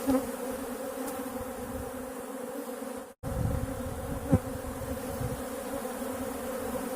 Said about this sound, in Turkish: Süzüm yaptığımız çıtalarımız, arılarımız yağmaya gelmiş.